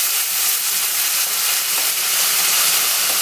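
Peppers hit hot oil in a pot for Jamaican beef liver, setting off a loud, steady, close sizzle and hiss that holds unbroken with no talking.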